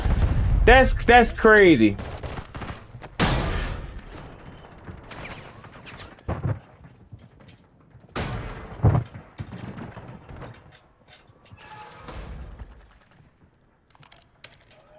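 First-person shooter gameplay gunfire, scattered sharp shots and bursts crackling in short clusters, with a player talking over the action.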